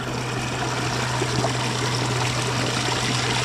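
Steady rushing of water flowing in a stream, continuous and close, with no voices.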